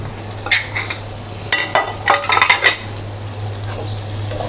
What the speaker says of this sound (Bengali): আমি এই ঢেঁড়সটা ঢেলে দেব।